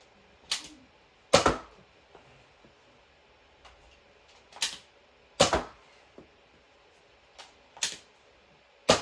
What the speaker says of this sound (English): Now firing some Slyshot full-length darts.